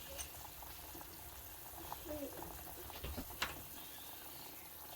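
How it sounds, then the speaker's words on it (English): Quiet bubbling of water heating toward a boil for making spruce pitch salve, low and continuous, with a few faint clinks and brief background noises. "we'll just let this boil here for a few minutes"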